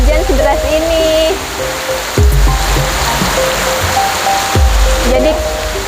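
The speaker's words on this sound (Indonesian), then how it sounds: "Ternyata hujannya deras banget." Heavy rain pours steadily at the Gunung Kawi temple site in Gianyar, Bali, a loud, dense wash of water from a sheltered spot, with people talking and chattering over it.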